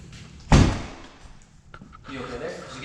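A shop door slams shut with one loud, booming thud in an echoey room, followed by a quieter clunk and room noise.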